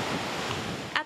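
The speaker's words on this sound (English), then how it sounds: "At the sound of crashing waves" Ocean surf washes in at Sunset Cliffs in San Diego, a steady broadband roar of breaking waves with wind noise, ending in a brief louder splash.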